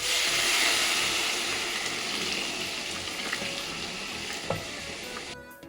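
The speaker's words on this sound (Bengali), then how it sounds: "পানিটা দিয়ে আমি নেড়ে নিলাম।" Chicken biryani rice frying in a pot as water is poured in and stirred, giving a loud, dense sizzle and hiss that slowly settles, with a few scraping stir sounds near the end.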